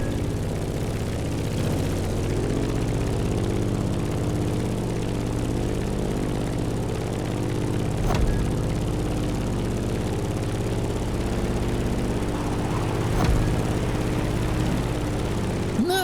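A propeller airplane engine in The Crew Motorsport hums at a steady idle, a low droning tone with layered harmonic whine that stays even and close, with a couple of faint clicks.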